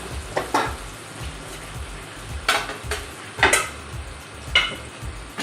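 Chicken kababs frying in a pan for a kabab handi gravy, with a steady sizzle broken by several clanking scrapes and stirs of a utensil against the pan, close and without talk.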